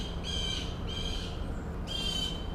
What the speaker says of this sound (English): What is that bird doing?